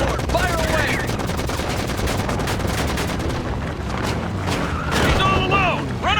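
Video game battle in Disaster: Day of Crisis with Humvees charging and firing, dense continuous gunfire bursts and loud booms filling the scene, with shouted voices and whistling effects mixed in.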